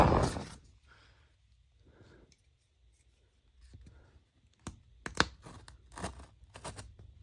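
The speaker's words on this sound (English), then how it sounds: "I got these scissors. And let's see if they work." Scissors snipping through packaging from a large lot of used phones: several crisp, sharp cuts in quick succession near the end, after a louder opening rustle and quiet handling.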